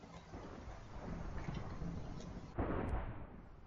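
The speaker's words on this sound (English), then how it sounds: "let's just set off one firework" A firework set off in Minecraft survival mode gives a loud bursting whoosh, followed by a sharp, louder blast partway through, with a brief high pop near the end.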